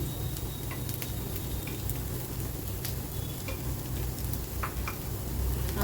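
Potato sabudana appe cook uncovered in an appe pan, giving a dense, steady sizzle and crackle of frying with scattered small ticks and pops throughout.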